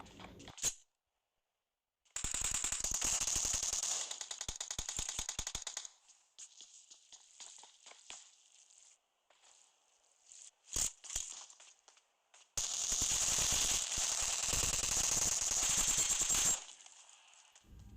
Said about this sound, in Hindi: फाइनली एक हेडशॉट लगता है AKM का। सिर्फ 14 गोली से रश किया था मैंने